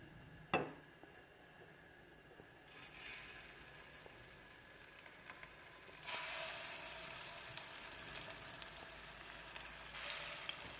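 Kebabs frying in a pan of hot oil over a medium flame: a sharp drop-in crackle, then a steady broadband sizzle that swells louder partway through and keeps hissing without speech.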